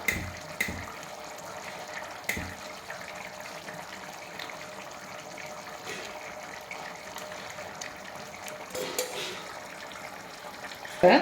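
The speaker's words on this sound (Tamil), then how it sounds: "இந்த ஸ்டேஜில் தண்ணியை வடிச்சுட்டு அரிசி எடுத்துக்கலாம்." Water is drained off parboiled rice for chicken biryani, giving a continuous pouring and splashing rush with small clatters, close by, with no talk.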